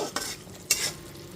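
Spice paste with softened tomato, cooked for a pabda fish curry, is stirred in a pan, giving two quick scraping strokes over a low frying sizzle, close and brief.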